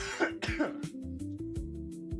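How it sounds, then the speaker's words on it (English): A person coughs and clears their throat several times in quick, close bursts over faint background music. "That's why I'm coughing."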